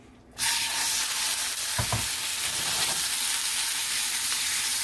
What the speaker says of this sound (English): now we're gonna throw it into a hot pan. I put some veggie oil in there and we're just gonna stir fry this real quick